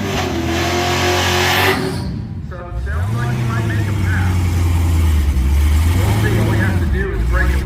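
Drag race cars at a Cadillac-themed quarter-mile event, including a Chevy SS, rev loudly and launch down the strip, engine tones rising and sweeping as they pull away, with crowd noise and talk mixed in.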